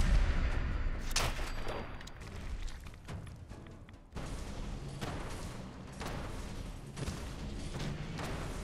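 Repeated gunfire in Fallout 4, a long run of dense shots and bursts that keeps going with a brief lull midway, close and fairly loud, with no talking.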